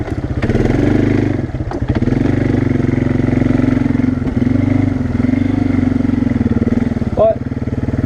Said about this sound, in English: Little 2-wheel drive farmer utility quad.